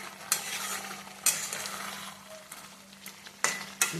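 Chicken pieces sauté in a hot pan under a continuous sizzle, with a few sharp spatula scrapes and clicks as the meat is stirred.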